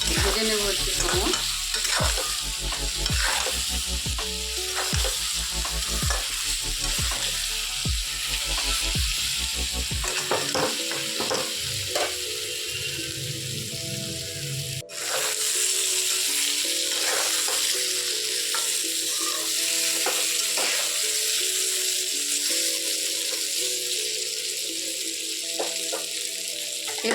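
Spiced hilsa fish masala with chili powder is stirred and fried in a pan: a spatula scrapes in a quick steady rhythm over a loud, continuous sizzle, then the stirring stops and the sizzling carries on alone, close by.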